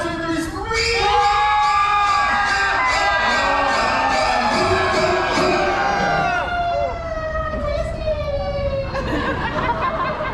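A crowd of visitors at a Universal Studios Hollywood haunted attraction screams loudly and continuously during a staged fake knife stunt, a dense sustained wall of shrieks that fades into giggling near the end.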